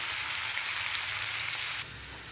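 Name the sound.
fenugreek leaves frying in a little oil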